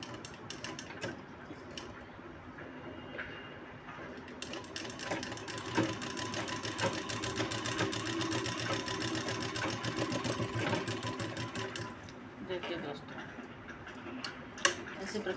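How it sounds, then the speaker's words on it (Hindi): A sewing machine stitches blouse fabric in rapid, steady mechanical ticking bursts that pause and restart, heard fairly close and quiet. "अब इसकी सिलाई करेंगे।"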